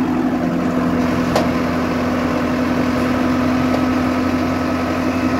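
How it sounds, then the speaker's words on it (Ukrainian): Four-cylinder diesel engine of a Solis 105 tractor idling close by, a steady loud drone with an even low hum throughout, alone with no talk. "4-циліндровий дизельочок."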